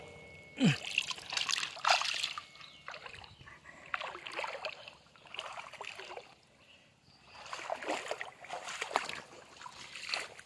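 Water pumped by a solar-powered pump powered by four panels, splashing and gushing in uneven bursts from a roughly inch-and-a-half outlet, moderately close with quieter pauses between surges.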